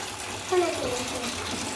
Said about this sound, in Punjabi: ਚਲੋ ਕੋਈ ਟੂਟੀ ਤੇ ਬੰਦ ਕਰ ਦੋ